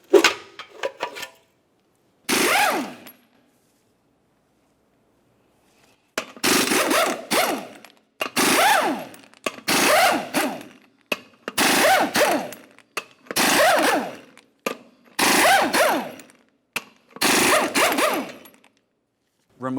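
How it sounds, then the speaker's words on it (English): Lug nuts on a 1994-2002 Dodge Ram 2500 front wheel coming off one at a time with a 24mm socket on an impact wrench, in a series of loud rattling bursts of a second or two each, separated by short pauses. "we'll continue on to removing the center cover and then all 8 of our 24mm lug nuts"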